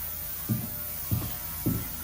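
A Harbor Freight ultrasonic cleaner runs with carburetor parts and jets in its basket, giving a steady low electric hum with three soft throbbing pulses rising at even intervals.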